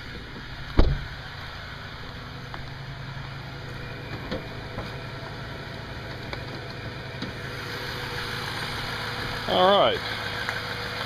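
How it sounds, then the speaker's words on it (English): A Toyota Tundra pickup's engine idles with a low, steady rumble, preceded by a sharp knock near the start and a brief whirring squeal near the end, while someone speaks a few words. "I'll go ahead and turn the engine off so you can hear me talking."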